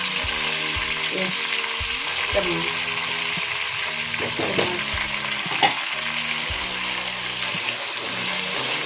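Steady sizzling and frying hiss of ginger garlic paste in a pan, with scraping stirring sounds and spoon clatters throughout, fairly loud and close.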